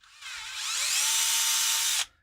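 A 3.2 mm cobalt drill bit spins up and bores for about two seconds, a loud, close, rising whine that cuts off sharply when it stops.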